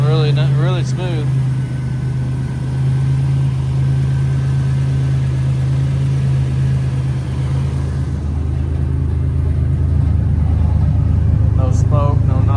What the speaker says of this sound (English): This idling really smooth.